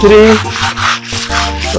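Handmade beads are scrubbed with sand and water against a stone, giving a loud, close gritty rubbing in repeated strokes, with a voice audible over it.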